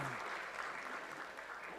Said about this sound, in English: Thank you so much for a big round of applause